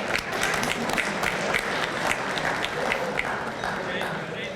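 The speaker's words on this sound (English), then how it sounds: "Give them a round of applause." Steady applause from a banquet audience at a high school athletic hall of fame dinner, a dense, sustained wash of many hands clapping at even loudness for the whole stretch, with no talk over it.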